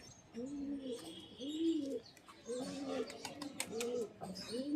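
Pigeons coo in repeated low, rolling phrases with a short pause midway, fairly close, over light background chatter and faint chirps.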